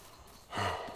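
A game character in Medieval Dynasty lets out a single heavy, deep breath or sigh, fairly close and short, with no talk over it.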